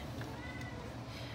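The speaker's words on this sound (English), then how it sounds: "my cat, get down, maniac" A house cat meows once, faint and muffled in a room under low background noise.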